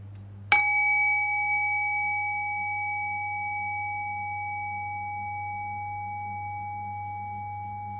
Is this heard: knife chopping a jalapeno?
no